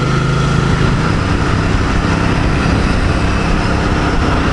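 A 2024 Royal Enfield Bear 650 motorcycle is ridden in fourth gear at 80 km/h, around 4,200 rpm, giving a loud, steady engine drone blended with wind roar throughout, with no talking.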